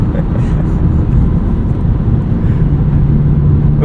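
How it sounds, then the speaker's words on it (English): A 2025 Volkswagen Jetta GLI with a manual gearbox cruising at highway speed in second gear, a steady loud low-frequency drone of engine and road noise filling the cabin from start to finish. "All right, we're at highway speeds in second."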